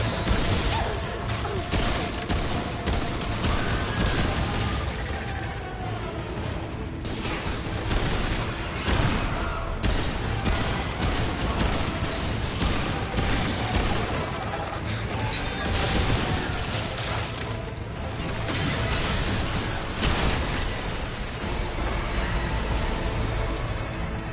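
Continuous loud Remnant 2 combat gunfire, dense shots mixed with crashes, thuds and mechanical clatter for the whole stretch, with some voices faintly underneath.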